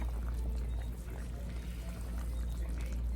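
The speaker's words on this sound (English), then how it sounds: "So it's boiling nice. Give it a turn." Guyanese chicken curry boiling steadily in a pot while being stirred, a continuous low bubbling and simmering wash with no pauses, close and moderately loud.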